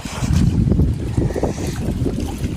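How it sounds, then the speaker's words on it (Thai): Strong wind blows across a dam reservoir on a fishing trip, roaring steadily and buffeting the microphone with heavy low rumbling gusts. "ตอนนี้นะครับก็ลมแรงมากนะครับ ลมเขื่อนนี่แบบเป็นคลื่นเลยครับ"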